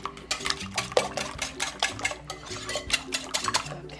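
Eight eggs whisked with milk in a bowl for a Spanish potato omelette: a brisk, steady rhythm of wet strokes with light clinks of utensil against the bowl, close up and continuous.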